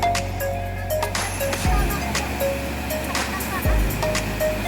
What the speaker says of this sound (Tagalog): So, bukana na ng falls.